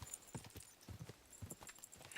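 Horse hooves clip-clop in Kingdom Come Deliverance 2, a quick uneven run of close hoof strikes at a brisk gait, fairly quiet and with no talk over them.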